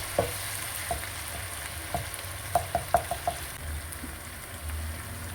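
Ginger-garlic paste fries quietly in a pan for a liver fry, a soft steady sizzle broken by a string of sharp clicks and taps from a spoon stirring against the pan, heard close with no talking.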